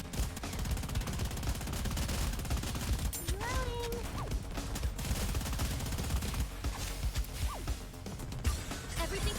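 Sustained rapid gunfire bursts from Goddess of Victory: Nikke, dense and continuous over a busy game soundtrack, with brief tonal effect sweeps mixed in.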